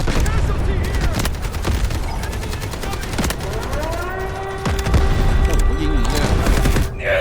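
Rapid bursts of automatic rifle fire from the AKM in the Delta Force video game, dense volleys crackling close and loud throughout, with game sound effects and faint voices mixed underneath.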